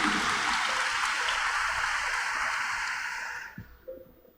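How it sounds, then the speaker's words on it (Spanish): Crowd applause for the people of Jalapa at a Sunday Mass homily, a dense sustained clapping that fades out over about three and a half seconds, leaving a few faint stray sounds. "Entonces un aplauso también a los jalapeños y jalapeñas ilustres."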